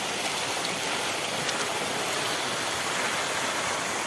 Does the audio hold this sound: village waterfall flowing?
yes